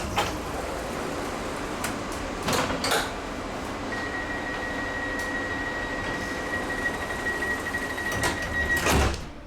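Push-button doors on a Sydney light rail tram open with a few soft thumps and slides over a constant hum and a thin electrical whine inside the car.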